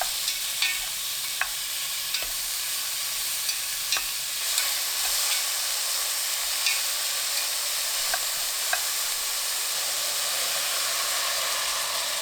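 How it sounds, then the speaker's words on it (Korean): Beef sizzles steadily in a pot over high heat, a constant frying hiss with occasional light clicks of stirring. "냄비에 소고기 넣고 센 불로 볶아주세요."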